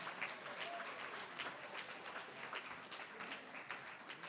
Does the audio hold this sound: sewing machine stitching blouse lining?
no